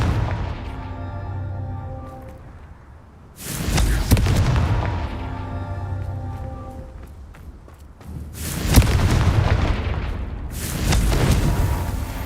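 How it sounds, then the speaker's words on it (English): Confringo fire spells in the video game Hogwarts Legacy go off in three loud booming blasts, each a sharp crackling burst with a rumbling tail, set against a quieter ambient musical background. "Confringo."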